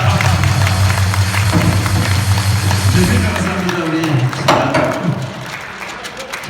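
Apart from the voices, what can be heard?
audience applause in agreement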